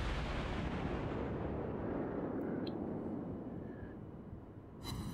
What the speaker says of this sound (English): Launch another salvo. Eight shots.